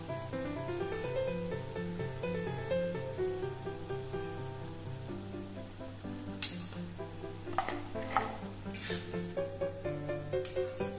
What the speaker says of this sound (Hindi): कितना क्रिस्पी है आवाज से पता चलता है।